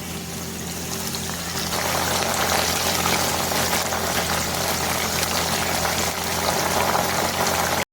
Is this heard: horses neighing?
no